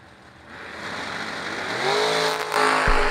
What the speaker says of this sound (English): Nice wheels up launch for Tanner Folk.